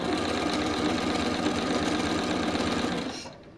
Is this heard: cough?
no